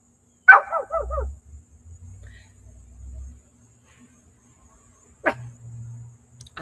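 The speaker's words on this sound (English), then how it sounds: "I need to get my dog who's out here trying to get run over." A dog outdoors near a road gives a quick run of yapping barks, then falls silent amid low rumbling, and a single sharp bark follows several seconds later.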